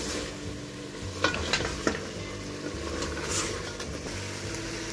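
Chicken achar gosht masala with dried coriander and cumin being fried in a pan, a steady sizzle with a few scraping stirs and low background rumble.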